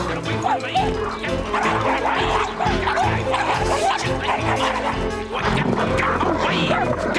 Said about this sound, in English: Oh, no, it's a darn Bartholomew dog